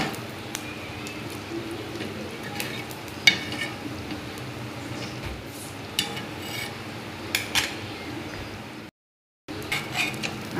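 Pav bread rolls being toasted in an oily pan for Mumbai-style butter pav bhaji give off soft scraping and rubbing sounds with occasional light clicks, steady and fairly quiet, broken by a brief silence near the end.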